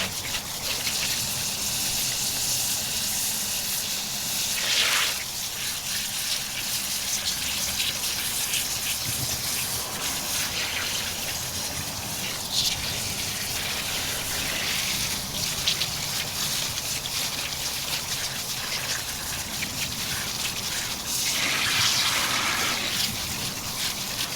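Cool water gushes and splashes continuously at close range outdoors, with swells of rushing flow as a tie-dyed T-shirt is rinsed through the stream.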